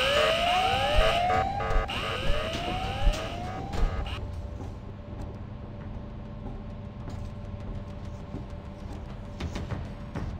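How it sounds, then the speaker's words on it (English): In the video game Ice Scream 5, an alarm siren wails in repeated rising sweeps for several seconds, then gives way to a low steady hum. "Sound the alarm!"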